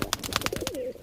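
A pair of loft pigeons gives a quick run of soft coos and wing flutters close by, alone and brief.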